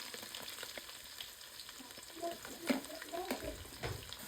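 Chopped ginger and garlic sautéing in hot oil for Wayanad-style mango pickle, a steady low crackle and sizzle with soft stirring scrapes, moderately quiet and close.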